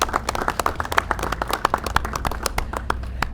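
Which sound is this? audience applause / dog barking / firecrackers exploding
audience applause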